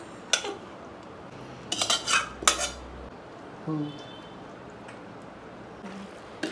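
Boiled macaroni being mixed in a bowl with a utensil, a few short bursts of clinking and scraping against the bowl separated by quiet gaps, close and moderately loud.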